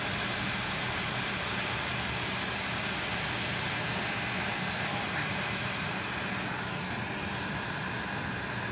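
A heat gun blows while heat-shrinking a snorkel piece on a Kawasaki Bayou 300 ATV, giving a steady, airy, quiet whoosh that stays constant throughout with no talking.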